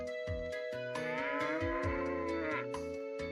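A cow moo sound effect from the video game Breath of Fire III sounds over steady synthesized game music with a pulsing bass line.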